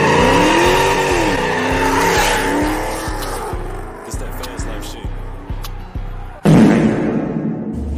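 A 2026 Dodge Charger launching, its exhaust roaring loud and close as the revs climb, then breaking into rapid pulsing bursts with tire squeal, ending in a sudden sharp roar; voices talk over it.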